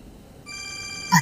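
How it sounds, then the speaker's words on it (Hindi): A telephone rings in a TV drama scene, a short electronic ringtone entering after a quiet start and swelling into a brighter burst at the end. "ये इस वक्त किसका फोन आ गया?"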